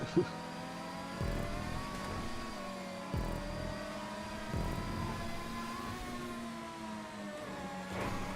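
An F1 race car in GTA Online roars over stunt jumps, its steady high engine drone rising and dipping with revs throughout, with a few thumps from landings along the way.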